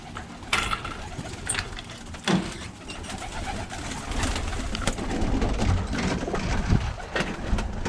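Roller pigeons cooing softly in a loft amid a steady indoor bustle of rustling and faint mechanical clatter, with occasional sharp knocks; no speech.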